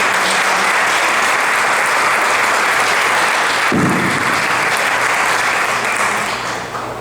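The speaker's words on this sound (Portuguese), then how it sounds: "Uma salva de palmas para os diretores." Sustained applause from an audience at an installation ceremony for the new board of a literary academy, steady and dense throughout and tapering slightly at the end, with no voices.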